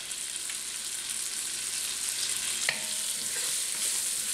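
Meat and flour browning in a Dutch oven for Colorado green chili send up a steady, even sizzle, with a single sharp clink of a utensil against the pot partway through.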